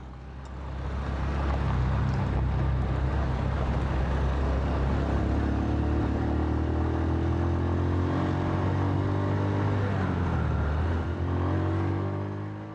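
A motorbike engine on a dirt road in Kampala drones steadily and loudly up close, its pitch rising and falling slightly as the bike rolls along, with faint rattling underneath.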